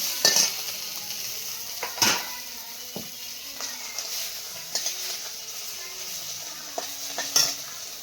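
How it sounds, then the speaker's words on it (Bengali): Fish fries in very little oil, a soft, steady sizzle broken by sharp clinks and scrapes of a utensil against the pan, at close range with no talking. "একদম কম তেলে মাছ ভাজলাম"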